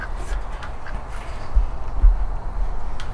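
Ducks quack at a backyard ranch, a few soft, scattered calls over a steady low rumble of outdoor background noise.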